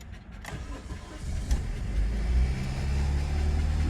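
A 2004 Chevrolet Optra with a radiator leak cranks briefly and catches, then settles into a steady, close engine idle with a low droning hum.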